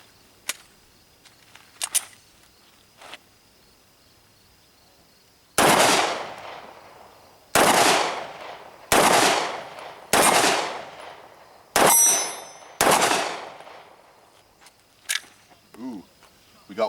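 A Glock 19 Gen 4 9mm fires Federal Hydra-Shok 115 grain hollow points outdoors: six loud, sharp shots spaced about a second or two apart, each with a decaying echo, after a few quieter clicks and handling sounds.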